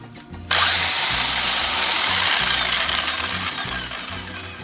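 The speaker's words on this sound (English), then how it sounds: "Now here we have the drill clamped into a vise to hold it." An electric drill clamped in a vise kicks on suddenly and spins an egg-scrambling container at high speed, a loud steady whine with rattling and rubbing that eases slightly as it runs.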